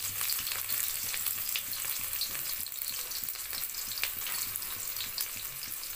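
Chopped onions frying in hot oil in a pan, a steady dense sizzle with faint crackles and occasional light stirring clicks, close and continuous throughout.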